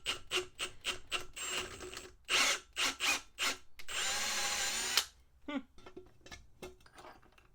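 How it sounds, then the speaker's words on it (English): A power drill with a chamfer bit cleans out threaded holes during an AEM water-methanol kit install on a BMW M135i N55, running in short bursts and one longer sustained whir, close and moderately loud. "we'll just get a chamfer bit on, clean them threads out"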